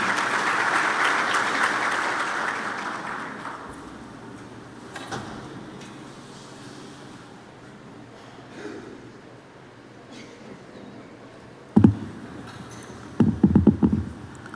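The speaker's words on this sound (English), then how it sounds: "Can we clap hands for Dr. Chikolome?" Conference audience applause, a fairly loud wash of clapping that fades out after a few seconds, followed by quiet room noise and a few sharp knocks and thumps.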